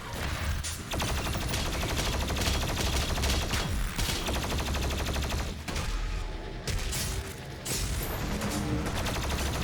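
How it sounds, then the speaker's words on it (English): Heavy, continuous gunfire and explosive blasts fill a DOOM Eternal firefight as missiles come in, loud and dense with rapid mechanical bursts and booms and no pauses, and no voices. "Missiles incoming."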